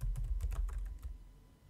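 A quick, soft burst of keystrokes on a computer keyboard as a terminal command is typed, the clicks close and fairly quiet, fading out within two seconds.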